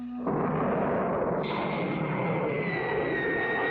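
A cartoon rocket blasting off with a sudden loud roaring rush that holds steady, a high whistling tone joining partway through, close and filling the whole moment without speech.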